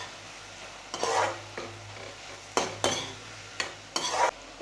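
Spoon stirring spices into a dry fish and taro curry in a pan, scraping in several separate strokes, close and moderately loud over a low sizzle.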